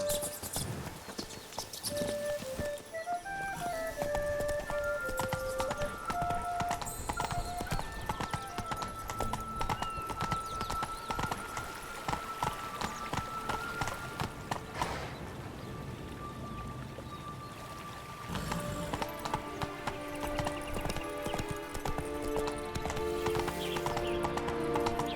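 Geralt's horse Roach in The Witcher 3: Wild Hunt, Blood and Wine, gallops with quick steady clip-clop hoofbeats under swelling game music, a short lull midway before the pounding resumes.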